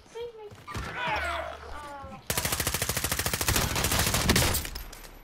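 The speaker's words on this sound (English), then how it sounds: "Where are they shooting from?" Rapid automatic gunfire rattles in a multiplayer shooter match, a steady fast burst of evenly spaced shots that kicks in halfway through after a stretch of players talking.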